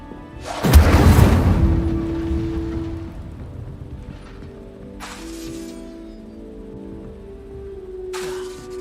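An Incendio fire spell in Hogwarts Legacy erupts in a loud, close whooshing blast that fades into a low rumble, with softer magical bursts following later.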